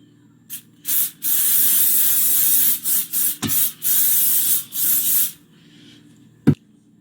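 Several hissing bursts of a vegetable oil spray can coating an air fryer basket, some short and some sustained, close up, followed by a small clack at the end.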